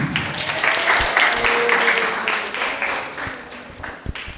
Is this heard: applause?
yes